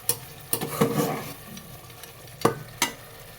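Spice paste fries in oil while a spoon or spatula scrapes and knocks against the pan, a few sharp clatters over a low, soft sizzle, close by.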